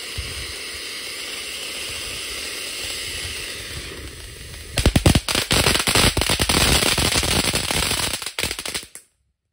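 A size-4 firework fountain hisses steadily, then bursts into a louder, crackling spray of sparks that sputters on for several seconds before cutting out abruptly.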